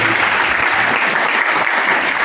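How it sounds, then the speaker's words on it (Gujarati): An audience at a school law-awareness seminar bursts into loud, dense applause, many hands clapping at once in a continuous roar that holds steady for the whole moment. "મિત્રો જોરદાર તાળીઓથી વધાવી દઈએ."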